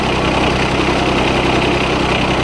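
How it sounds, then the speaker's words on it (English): A John Deere 455 lawn tractor engine idles steadily up close, with a continuous low rumble and even mechanical vibration throughout and no voices. "the engine runs really nice, starts right up"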